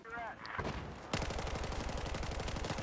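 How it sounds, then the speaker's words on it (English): An L85A2 rifle in Battlefield 4 fires a rapid, evenly spaced stream of loud, close shots that start abruptly after a short quieter lead-in and continue as a sharp machine-like rattle. "you just burst fire and most shots still somewhat go in a straight line"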